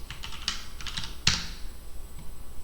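Typing on a computer keyboard, with a quick run of light clicking keystrokes and one louder, sharper press in the middle, close up and with no talking.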